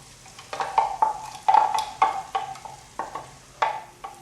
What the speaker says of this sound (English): we're going to stir this around and let this saute